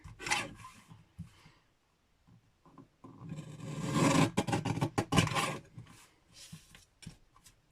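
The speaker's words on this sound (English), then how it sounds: "Grab my handy dandy little trimmer." Card cut with a paper trimmer, scattered scraping and sliding strokes with light knocks, louder and busier in the middle, close and without talk.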